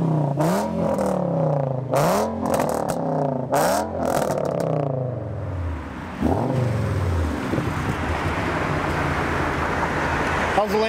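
Lamborghini engine revving hard in repeated surging bursts, then fading into a steady rumble as it passes close by, with a brief spoken word over it.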